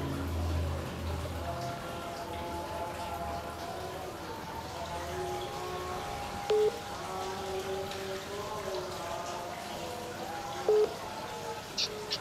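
A phone is dialed, a short series of distinct electronic keypad tones spaced out over a steady background hiss, fairly quiet and close.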